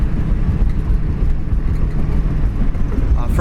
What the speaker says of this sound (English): that brand new dual exhaust really made it sound nice and gives it just a little more oomph